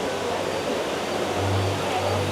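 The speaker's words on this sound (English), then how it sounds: "Screens with waterfall in front of the screens." Waterfall cascading in front of display screens in Las Vegas, a steady broadband rush of falling water that holds at an even level throughout.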